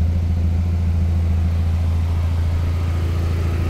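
A 2005 Audi TT coupe engine idles in a steady low drone, close and unchanging throughout, with no talk over it.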